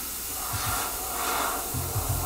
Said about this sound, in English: anytime you start spraying and adding stuff